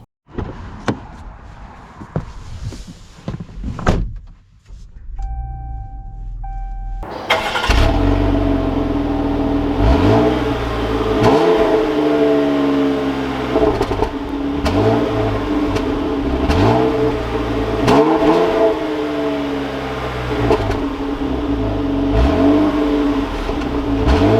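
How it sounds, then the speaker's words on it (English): A 2021 Jeep Cherokee Trailhawk sits quiet, then a short electric whir is followed by the engine starting and repeated revving surges as it drives and accelerates, loud and close from the cabin. "let's take this Trailhawk out and see how she drives"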